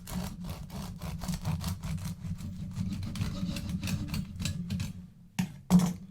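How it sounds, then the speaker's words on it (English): Knife sawing through a loaf of crusty homemade white bread: a quiet, rapid rhythmic scraping and crunching, close by, with a short pause and two final cuts at the end. "let's go ahead and cut it."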